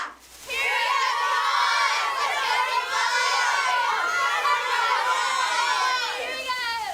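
A high school cheer squad at a football game cheers and shouts in unison: a sustained, loud burst of many young voices yelling together, with no pause over several seconds.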